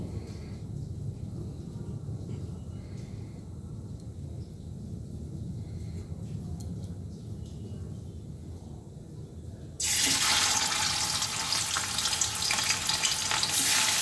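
Small fish laid one by one into hot oil in a wok, with a soft low frying hiss that suddenly bursts into a loud, bright, crackling sizzle near the end, close up, with no talk.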